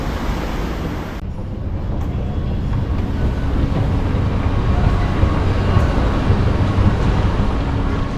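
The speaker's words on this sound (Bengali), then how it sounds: "এটা হচ্ছে এমআরটি স্টেশন, যেটা আন্ডারগ্রাউন্ড।" An underground MRT train at a Bangkok station gives a loud, steady rumble that fills the whole stretch, with a faint high hiss fading early on and no voices.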